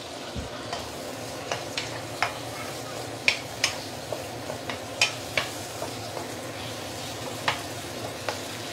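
Prawns fry in a non-stick wok, a quiet steady sizzle broken by repeated light clicks and taps of a utensil stirring against the pan, close and without speech.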